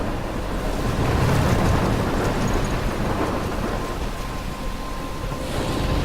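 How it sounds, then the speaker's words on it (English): A storm rages in the video game Life is Strange: a continuous roar of wind, crashing waves and rumbling thunder, loud and steady with no voices. "I'm trapped in a storm?"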